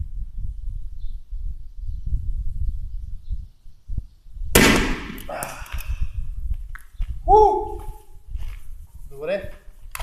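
A 3D-printed airsoft launcher fires a projectile with a single sharp crack in a quiet space, followed by scattered knocks and short tonal chirps, with a voice speaking around it.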